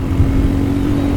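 A modified dirt bike engine runs loudly and nearby with a steady, droning buzz and a slight rise in revs, with no speech over it.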